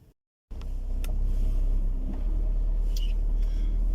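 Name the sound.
car driving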